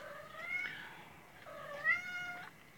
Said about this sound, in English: I wish this cat would be quiet